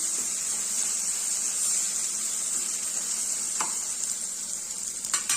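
Green peas sizzle steadily in a hot pan, with a few soft scraping sounds as they are stirred, and no talking.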